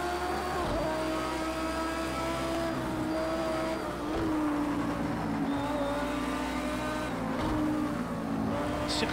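Race car engine and tire noise from the Project CARS 2 video game: a revving engine rises and falls through gear shifts, with tire squeal and brief skids, steady and fairly loud without talk.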